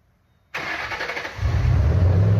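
A 2005-2009 Ford Mustang GT engine cranks and catches at once after a spark plug replacement, then settles into a steady running rumble that deepens and grows slightly louder toward the end.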